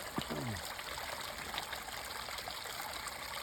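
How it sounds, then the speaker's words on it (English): Stream water flowing along a hiking trail, a steady soft trickling and babbling close by, with a brief low knock near the start. "So here we are at a lovely stream, getting some water."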